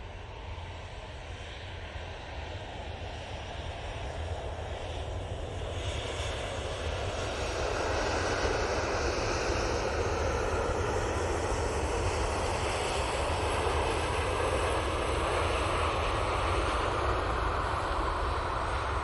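A fixed-wing airliner passes close by at Manchester Airport, its engine roar building from a steady rumble into a loud, broad, sustained drone that holds strong through the second half with no voices.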